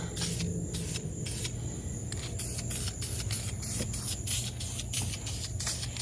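Lacquer spray paint on refinished alloy wheel barrels for a 2004 Saturn VUE comes as repeated short aerosol hiss bursts, about a dozen in quick succession with brief gaps, close and fairly loud.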